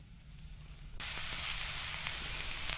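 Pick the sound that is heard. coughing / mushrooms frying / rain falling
mushrooms frying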